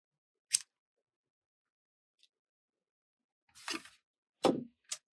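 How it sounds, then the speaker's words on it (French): Scissors snip macramé threads in a few short, crisp cuts, close and quiet, isolated bursts separated by silence, with a couple of quick snips near the end. "Vous venez couper ces fils et vous allez les voiler."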